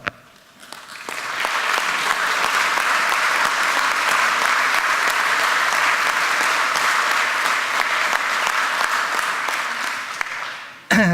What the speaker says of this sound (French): je voudrais que vous puissiez juste applaudir la personne sans qui on ne pourrait pas être là aujourd'hui